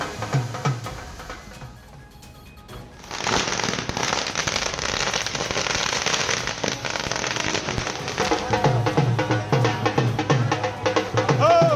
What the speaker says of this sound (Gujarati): શપથ ગ્રહણ સમારોહ નિહાળ્યા બાદ ફટાકડા ફોડીને ઉજવણી કરવામાં આવી છે